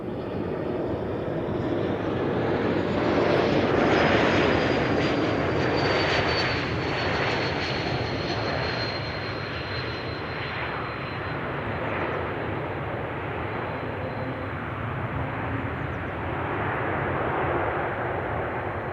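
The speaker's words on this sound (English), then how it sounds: "E2 Embraer 195 arriving from Bologna," An Embraer E195-E2 jet arriving from Bologna comes in to land at Amsterdam Schiphol, its engines a loud, steady roar throughout with a slowly shifting whine, heard near and alone.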